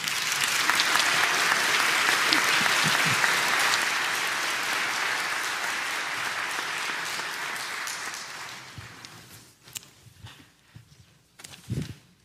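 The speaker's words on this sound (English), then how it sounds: "Now let us applaud for them." A church congregation at a traditional worship service applauds its newest members, a loud, dense wash of many hands that gradually thins and fades, leaving a few scattered claps and soft bumps near the end.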